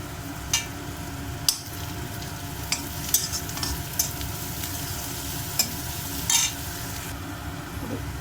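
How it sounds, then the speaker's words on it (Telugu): Ridge gourd curry base fries in a pan with a steady, close sizzle, while a spoon scrapes and stirs in scattered clicks and knocks, with no voices. "లైట్ గోల్డ్ కలర్ వచ్చి ఫ్రై చేసుకుందాము"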